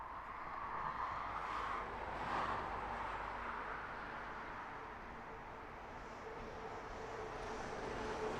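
A Virgin Atlantic Airbus A350-1000 comes in to land at Heathrow, its engines a distant, steady low roar that swells slightly and then holds under faint ambient noise.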